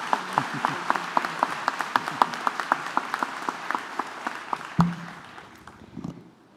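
Audience applause welcoming Susan Michel to the podium at a school commencement ceremony, steady rapid clapping from a large crowd that thins and fades out near the end.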